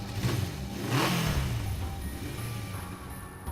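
A motorcycle engine revs briefly and then settles into a low rumble, fairly faint and heard alone, as a sound effect in the visual novel game Steins;Gate 0.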